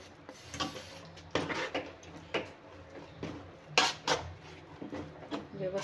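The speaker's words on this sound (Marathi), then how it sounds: "आता हे आपण हलवून घेऊया." A spoon clinks and taps against a bowl while red chili powder and salt are mixed, a string of light, uneven metallic knocks and scrapes, close and fairly quiet, with no speech.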